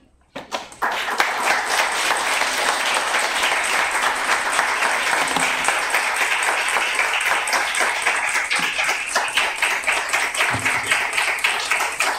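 Loud, sustained applause from a crowd at a poetry reading bursts in and continues steadily for over ten seconds, many hands clapping at once.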